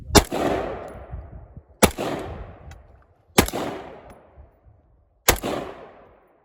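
Four loud, sharp gunshots from an M16 rifle firing at targets, each a single crack ringing into a long echoing decay, spaced about one and a half to two seconds apart.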